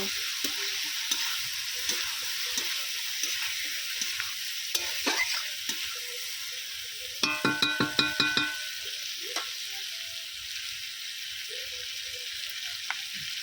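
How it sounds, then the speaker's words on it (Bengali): Fried potatoes stirred with spices in a pan, a soft continuous sizzle broken by the clink and scrape of a spoon against the metal, with a short burst of rapid tapping midway. "আলুটা মশলার সঙ্গে ভালো করে একটু কষিয়ে নেব"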